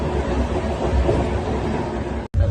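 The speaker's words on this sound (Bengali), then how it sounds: "আমরা ট্রেনে উঠে গিয়েছি" Interior of a moving passenger train, a loud continuous rumble and rattle of the carriage on the rails, briefly cut off near the end.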